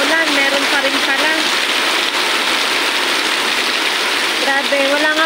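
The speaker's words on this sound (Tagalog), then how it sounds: "Hindi ko ina-expect to kasi akala ko sa ikatlong araw wala nang ganitong kalakas na ulan." Heavy, continuous rain from Typhoon Enteng pours steadily at close range, a dense broadband hiss with no break, while faint chirps rise briefly over the downpour.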